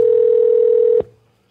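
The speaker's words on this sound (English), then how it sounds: "Let's see if we can get him on the phone." A steady telephone dial tone holds loud and close for about a second, then cuts off abruptly with a faint click as a call to a racing radio guest is placed.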